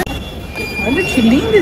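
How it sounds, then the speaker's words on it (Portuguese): A metro train with a wooden interior in The Hague rumbles loudly and steadily, with squealing wheel tones rising near the end while a voice talks over it. "Olha que lindo esse metrô, gente!"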